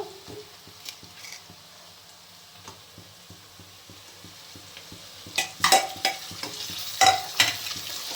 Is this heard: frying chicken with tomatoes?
yes